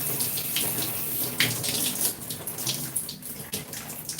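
Steady running water from a tap pours over hair during a wash-day rinse of 4c natural hair, a continuous close splashing hiss with small shifts as the stream hits the head, no talking.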